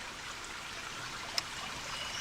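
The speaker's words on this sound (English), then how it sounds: "There's a little stream that flows down through here." A small stream flows through a rocky creek, a soft, steady trickling hiss at low level throughout, with one brief faint click partway through.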